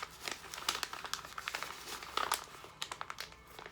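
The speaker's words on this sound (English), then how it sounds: "And then you can put them in the petition and then fold it towards you 3 times." A paper petition holding crystals is folded toward the folder three times, making close, quiet crinkling and crumpling rustles in quick irregular bursts.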